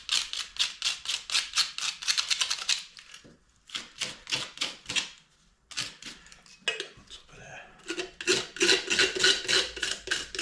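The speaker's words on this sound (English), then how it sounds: "we just now want to rub a bit of sandpaper over the fash to get the sharp edges off." Sandpaper rubbed by hand over the sharp edges of a metal piece for a tap lamp, a close, rhythmic rasping in quick back-and-forth strokes with brief pauses between bursts.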